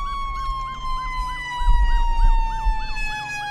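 A wailing ambulance siren from the Roblox ER:LC emergency-response game cycles steadily up and down in pitch, loud and close, with low rumbling engine and collision noise underneath and no talking.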